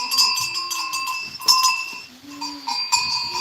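Goats on a farm, kept near a first-time mother that has just given birth: several short bleats come in bursts, with faint bell clinks and tonal background hum between them, fairly close and without talk.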